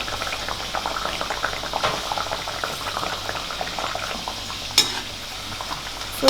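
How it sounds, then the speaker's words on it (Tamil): Wheat butter biscuits fry in a pan, a steady bubbling sizzle of hot oil running throughout with a few sharper pops and spatters, close and moderately loud with no talking. "2 பக்கமும் அப்படியே திருப்பி திருப்பி போட்டு நல்லா கோல்டன் ப்ரௌன் வர்றது வரைக்கும் இதை நம்ம ஃப்ரை பண்ணி எடுத்துக்கலாம்."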